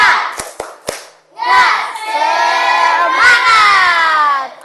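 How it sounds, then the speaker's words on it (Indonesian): A class performs a rhythmic clapping chant: a few sharp claps, then children chanting loudly together in unison, close and energetic. "Kita tepuk semangat dulu supaya lebih semangat untuk belajarnya hari ini."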